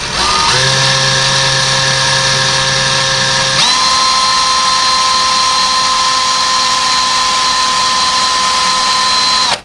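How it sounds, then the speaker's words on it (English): A power drill bores into a wooden header or stud above a window while mounting a curtain rod, a steady loud motor whine that jumps in pitch partway through and runs continuously until it cuts off at the end. "now we're going to drill until that tape comes in contact with the wall"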